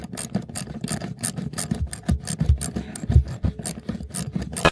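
Spanner working a 16mm bolt inside a car interior, a rapid run of close metallic ratcheting clicks and scrapes with uneven rhythm, no talk.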